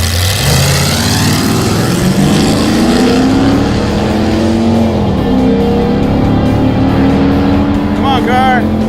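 A Mazda drag car launches down the strip, its engine screaming loud and climbing in pitch through a long run, with crowd noise and a brief shout near the end.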